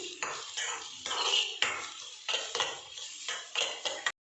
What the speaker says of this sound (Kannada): ಈರುಳ್ಳಿ ಒಂದು ಕಲರ್ ಚೇಂಜ್ ಆಗಬೇಕು, ಅಲ್ಲಿವರೆಗೂ ಜಸ್ಟ್ ಲೈಟಾಗಿ ಈ ಥರ ಫ್ರೈ ಮಾಡ್ಕೊಳ್ಳಿ